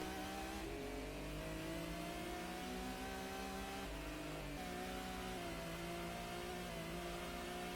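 A hard-tuned race car in Gran Turismo on the PAL PlayStation holds a steady, buzzing engine drone at high revs through a chicane and tunnel, with brief dips and climbs as it shifts, faint and continuous, no voices.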